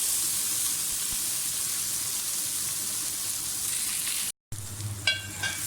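Okra slices frying in hot oil give a steady, close crackling sizzle, with a brief cut near the end and a few clinks of stirring afterward.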